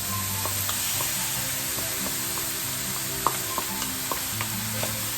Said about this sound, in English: we can start adding the cube ham. Followed by our mixed vegetables.